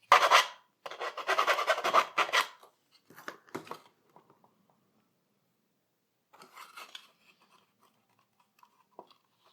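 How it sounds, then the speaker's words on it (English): Rasping file strokes on a scratch-built plastic model kit part, a dense burst of back-and-forth scraping up front, then a few shorter bursts with pauses and quiet gaps, close up. "Also, a lot of filing and gap filling was necessary."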